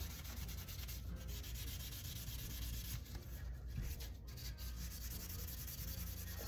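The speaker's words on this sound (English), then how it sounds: "I'll just do an initial rub down just to kind of see." Stained wood being rubbed down by hand with a sanding pad, giving a steady, continuous, close abrasive scrubbing that stays even and fairly loud throughout with no speech.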